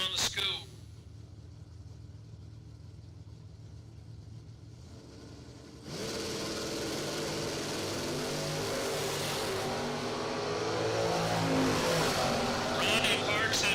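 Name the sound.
Pro Stock Stratus drag race car engine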